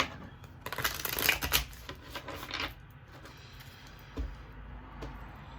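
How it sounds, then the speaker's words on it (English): A deck of oracle cards is shuffled by hand, with quick riffling and sliding bursts up close. Softer rubbing and a single tap follow. "Shuffle one more time."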